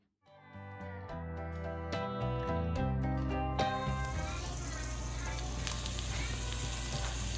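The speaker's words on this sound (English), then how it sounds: "now we're going to saute these in a pan until it's hot and the bacon is cooked" Bacon-wrapped hors d'oeuvres sauté in a hot pan. A burst of tonal clatter comes first, then it gives way to a steady, loud crackling sizzle that fills the rest, with no talking.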